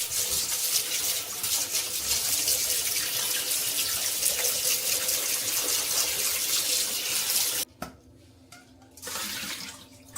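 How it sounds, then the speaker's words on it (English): Cold water from a tap runs steadily over chorizo in a sieve at a wild camp, a continuous close splashing gush that cuts off abruptly near the end, followed by a brief quieter trickle. "You need to run that under a cold tap."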